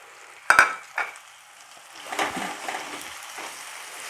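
Tomatoes hit a hot pan of dal khichdi tempering over a raised gas flame, with a sharp burst of sizzling followed by a softer second spurt, then a steady low frying crackle throughout.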